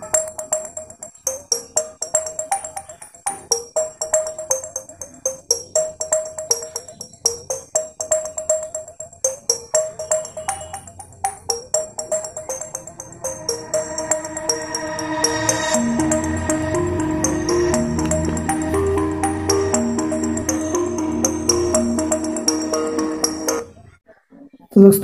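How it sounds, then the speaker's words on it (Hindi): Music streams from a phone to a Bluetooth speaker wired to music-reactive decorative lights, at first sounding as choppy, pulsing beats, then from midway as a fuller, sustained song that cuts off abruptly near the end. "अब इसमें गाना चलाऊंगा।"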